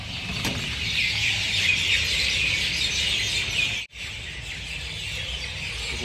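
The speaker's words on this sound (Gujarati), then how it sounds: "પક્ષીનો કલરવ" Birds chirp and twitter in a busy chorus at dusk outdoors, a steady bright twittering layered over faint low background hum, with a brief sharp dropout midway before the chorus resumes.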